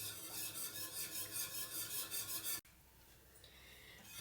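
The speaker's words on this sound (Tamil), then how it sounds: "கைவிடாமல் கலரிகிட்டே இருக்கணும்" Thickening gram flour kadhi is stirred steadily in a pan, giving a continuous rhythmic scraping and rubbing with regular strokes. It cuts off abruptly, and only faint background noise follows.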